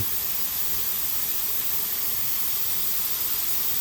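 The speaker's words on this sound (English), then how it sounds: "wait for the pressure cooker to release a continual blast of steam" A pressure cooker making chicken stock vents a steady, continuous hiss of steam at the regulated release. The hiss stays loud, broadband and even from start to finish, with no talking.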